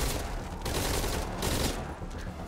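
Rapid, dense gunfire from the video game Metal Gear Solid V: Ground Zeroes rattles on continuously as overlapping automatic bursts at close, loud range.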